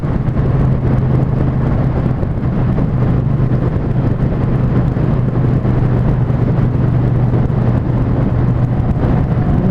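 A Triumph Bonneville Speedmaster motorcycle cruises at a steady pace near trucks, its engine holding a constant low drone beneath heavy, continuous wind roar for the whole stretch.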